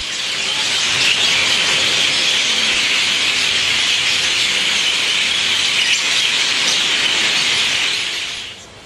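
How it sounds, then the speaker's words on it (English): A dense, continuous wash of high chirping and squawking from a flock of birds gathering at dusk in Waikoloa, Hawaii, loud and steady throughout, fading slightly at the end. "At dusk each night the birds like to congregate and make lots of noise, as you can hear."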